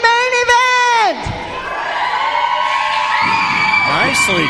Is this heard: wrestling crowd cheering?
yes